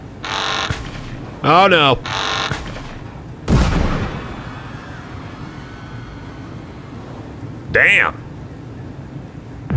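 Gunfire and an explosion from a terrorist attack at a border checkpoint in the Papers, Please video game: a few loud bursts with a heavy boom among them, set against a low rumble, while a man reacts briefly.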